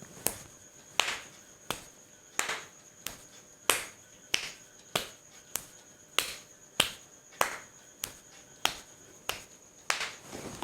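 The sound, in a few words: fingers tapping palm imitating rainfall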